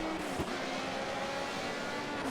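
A turbocharged race car from the 320 turbo class in the Project CARS racing game runs flat out on a national circuit, its engine a loud, steady, close droning roar with a brief sharper spike partway through.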